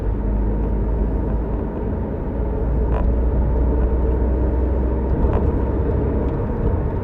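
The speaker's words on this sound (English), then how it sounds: "you do get a fair bit of road noise" Steady, broadband road rumble fills the cabin of a BMW 1 Series cruising on the motorway, a constant low roar with faint tyre and wind hiss and no one talking.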